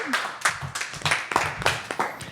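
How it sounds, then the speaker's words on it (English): Scattered hand claps from a small studio audience applauding a podcast crew, a steady patter of close individual claps with a few sharper ones standing out. "Big round of applause for the crew."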